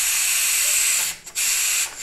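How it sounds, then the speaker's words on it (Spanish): Steam from a pressure cooker valve, released while a long wooden spoon props it back, rushes out as a loud, steady broadband hiss that briefly dips and cuts out twice before surging again. "le vamos a poner aquí atrásito, miren, para que el vapor salga más rápido"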